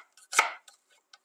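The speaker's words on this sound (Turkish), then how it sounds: "Bunları da piyazlık olarak doğruyorum" A knife chops through a dry onion, cutting it into thin slices for a salad, with one loud crisp chop followed by a few faint light taps on the board.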